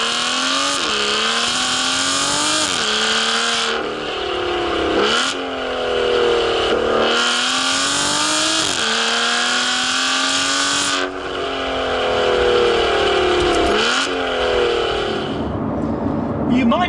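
An Aston Martin V12 Vanquish S driving through a tunnel, its engine loud and close, with repeated rising revs, gear-change dips and echoing roars over about seventeen seconds.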